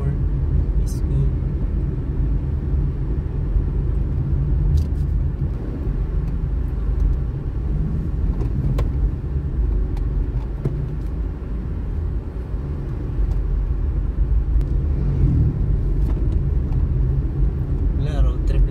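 A Honda Brio driving along a road on a road trip, heard as a steady low cabin rumble of engine and tyre noise. People talk over it, with a few light knocks near the end.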